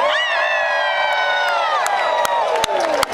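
A large crowd screams and cheers in a sustained, loud roar, with a few sharp claps or pops near the end.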